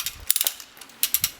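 A steel-cable power puller rated for 2.5 tons gives a few quick, close ratcheting clicks in two short bursts, clear against a quiet background with no talk.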